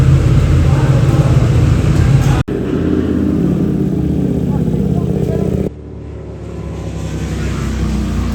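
A KTM RC8 motorcycle engine drones loudly and steadily, with two abrupt cuts where the sound drops before it builds again, and speech is heard over it.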